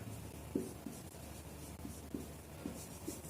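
Chalk or marker tapping and scraping on a board during a physics lecture, a series of short, soft strokes spaced irregularly over a faint room hum, with no talking.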